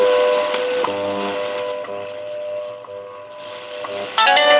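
Shortwave radio station received through a 100-foot long wire antenna with filtering off, coming through as a loud, steady, slightly distorted tonal signal with sustained harmonic lines, little static, and a sharper burst near the end.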